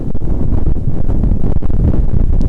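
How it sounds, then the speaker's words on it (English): Strong wind buffets the microphone outdoors near the Boulder mountains, a loud steady rumbling gust that fills the short stretch with no speech. "Woo, it's windy."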